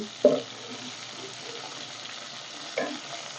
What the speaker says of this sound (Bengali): আমাদের মাছগুলা সুন্দরভাবে ভাজা হইতেছে প্রায় ভাজা শেষ